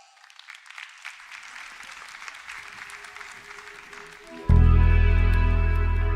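A church congregation at a live service claps in a steady, building patter that swells over a few seconds before a loud band starts playing and drowns it out.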